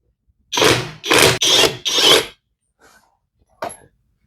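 Protmex impact wrench loosening a stubborn, stuck lug nut: four loud, close bursts of buzzing hammering in quick succession, followed by a couple of faint short clicks and one brief final burst.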